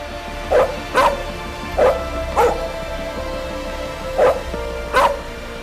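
A police dog in a Hindi-dubbed South Indian courtroom thriller barks in sharp, loud single yaps, about six in an irregular rhythm close by, with no talk over them.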